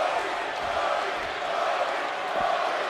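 A wrestling arena crowd roars in a steady, broad wash of cheering, with a few faint thuds beneath.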